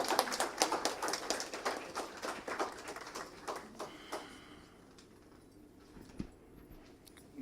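An audience at an Indian web browser development challenge launch event applauds to welcome a speaker, with dense clapping for about four seconds that then thins to scattered claps and quiet.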